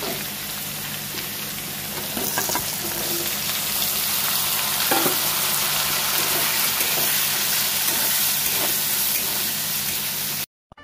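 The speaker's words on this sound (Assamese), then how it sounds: "ডাঙৰ কেৰাহীত মাছটো বনাই দিওঁ" Fish sizzles and crackles in hot oil in a large wok, a continuous close frying hiss with a few louder spits, ending abruptly.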